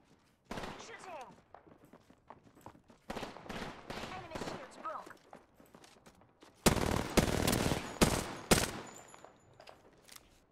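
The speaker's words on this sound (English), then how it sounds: "Shooting." Automatic gunfire in Apex Legends rattles out in several rapid bursts separated by pauses, the loudest and densest volley coming late, close and sharp.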